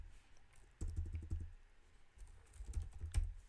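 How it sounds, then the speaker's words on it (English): Fingers type on a computer keyboard in short bursts of close, clattering keystrokes, a quick run, a pause, then another rapid flurry, with no voices. "let's type in the password, which is also test"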